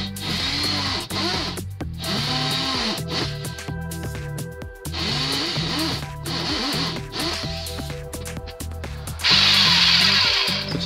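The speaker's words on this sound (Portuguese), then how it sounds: "utilizaremos a broca 6 para alargar os furos menores" A power drill with a 6 mm bit widens small holes, whining in repeated bursts that rise and fall as the bit bites, separated by short pauses, with a louder high-pitched run near the end.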